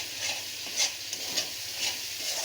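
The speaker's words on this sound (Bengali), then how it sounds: "দিয়ে এটা একটু মশলাটা কষিয়ে নেব।" Spices and chili powder frying in a pan for a soybean and flour dish, giving a steady close sizzle with soft scraping stirs at regular intervals and no talking.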